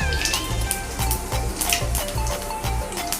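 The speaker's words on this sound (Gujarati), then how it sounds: "હવે આપણું તેલ ગરમ થઈ ગયું છે, એમાં આપણે રાઈ નાખીશું।" Mustard seeds in hot oil for a cabbage and potato curry, with a steady busy sizzle, sharp crackles and a rhythmic thumping stir, close and fairly loud, no talking.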